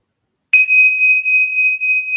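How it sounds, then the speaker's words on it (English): A pair of Tingsha bells strikes once after half a second of silence, giving a bright, pure ringing tone that sustains evenly and shimmers without fading for the rest of the clip. "I'll ring the Tingsha bells"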